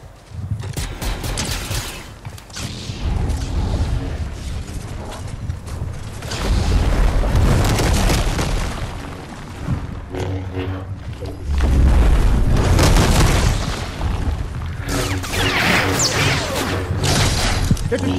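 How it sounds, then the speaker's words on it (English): Gunfire and explosions fill a match of the video game Fortnite, with bursts of shots, booms and clattering mechanical noises heard loudly throughout, with no talk heard. "I hear shots in front of you."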